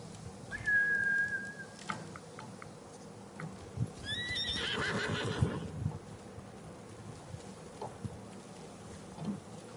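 A horse neighs loudly once in the video game Ghost of Tsushima, a shrill whinny rising and falling, with faint hoof clatter and a thin whistle-like tone earlier against quiet background.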